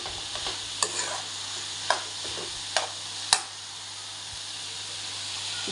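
Cabbage and carrot thoran stirred in a pan, a soft low sizzle under a few distinct spoon taps and scrapes against the pan, close and fairly quiet with no speech.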